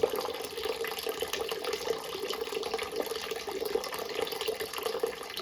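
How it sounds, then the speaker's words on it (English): Water poured out of a studio trim saw's tray, a continuous splashing, trickling stream that stays steady and fairly close, with no voices. "grab the back of the saw, and just dump the water out"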